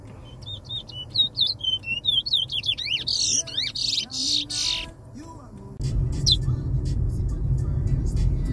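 A caged Brown Towa Towa bird whistles near the microphone inside a moving car, repeating quick rising and falling notes in bursts over a low road and engine rumble that grows louder toward the end, with no talking.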